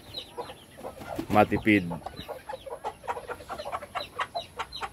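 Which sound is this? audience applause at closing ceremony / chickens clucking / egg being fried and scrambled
chickens clucking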